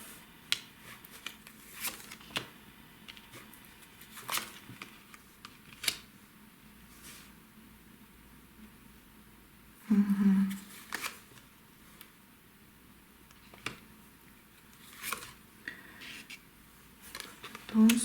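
Tarot cards are shuffled and handled in scattered bursts: sharp riffles, taps and clicks separated by quiet gaps, fairly close and soft, with occasional brief voice.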